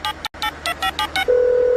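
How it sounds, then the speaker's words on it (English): Short electronic tones beep in an even series like a number being dialed, then a steady, unbroken tone follows, heard close and clear with no voices. "Oh, it's ringing, Rupert."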